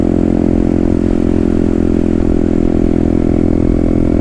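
A Herald Maverick 125cc motorcycle, also called the Bullet Hero 125, runs steadily while being ridden, its single-cylinder engine giving a loud, constant, throbbing drone with a rough mechanical rattle and no pauses.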